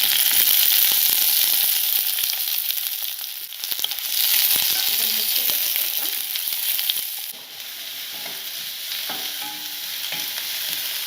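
Five or six finely chopped garlic cloves and cut onion sizzle steadily in a hot pan, a continuous bright frying hiss with occasional stirring scrapes and clinks, close and fairly loud, with no talking.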